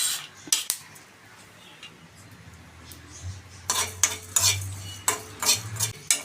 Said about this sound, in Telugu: ఇవి కూడా మాడిపోకుండా వేయించుకోండి.